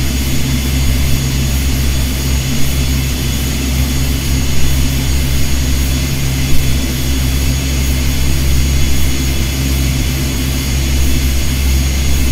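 ATR72-500 twin turboprop engines in a Prepar3D v5 flight simulator give a loud, unbroken droning hum with a steady low rumble and a whining tone, constant throughout with no talking.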